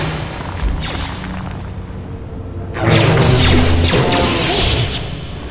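A grenade landmine goes off in Star Wars: Knights of the Old Republic, a loud crashing boom midway through that lingers for a couple of seconds before easing back into low game background.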